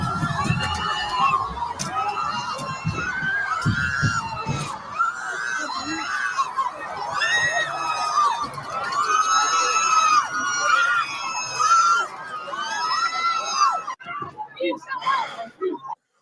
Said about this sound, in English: Why do women always scream like that?